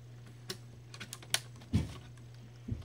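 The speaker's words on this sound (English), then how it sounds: "Keyboard comes right out." An IBM ThinkPad R31 laptop keyboard being lifted out of its chassis, heard as scattered close plastic clicks, taps and one dull thump, with no voices.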